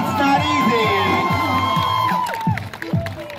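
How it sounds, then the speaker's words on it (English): A crowd at a dance performance cheers, whoops and shouts loudly in a dense wall of voices, with high excited yells rising and falling before thinning out at the end. "Crowd, make some noise."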